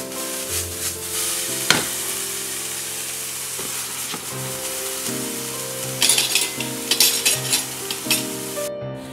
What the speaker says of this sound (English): and the minced green peppers. And you're gonna saute these until they get tender